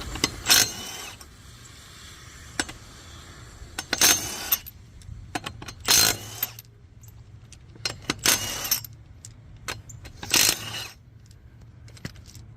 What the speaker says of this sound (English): Put the bolts down. Take the tire off.